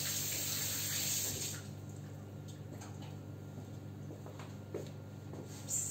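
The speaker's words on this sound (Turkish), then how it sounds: "Şöyle bir tarafa ellerimi yıkayıp geliyorum." A kitchen tap runs steadily for someone washing their hands, a soft continuous hiss of water that eases slightly after the first second and a half, with faint clinks behind it and no talk.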